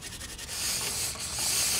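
Steady abrasive rubbing of sandpaper on a metal brake caliper bracket, a hissy scratchy sound that grows louder and continues without pause; no talking.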